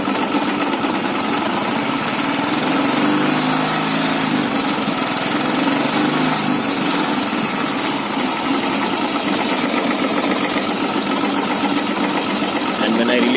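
Royal Enfield motorcycle with an odd engine noise under throttle: a continuous loud, close, buzzing mechanical rattle with a fast even pulse that holds steady throughout, with a voice talking over it.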